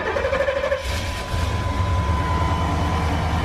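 A stock 454 big block V8 pickup engine cranks and catches, then settles into a steady, smooth, fairly quiet low idle rumble heard close by.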